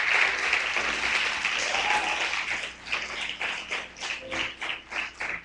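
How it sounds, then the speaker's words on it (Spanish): Church congregation applause during a worship service: a dense burst of many hands clapping that settles into a rhythmic, pulsing clap in unison, moderately loud throughout. "dale un aplauso fuerte al Señor"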